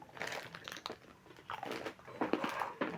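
A crunchy snack is bitten and chewed close by during a casual card game. Quiet, irregular crackling crunches come in short bursts with small pauses between them.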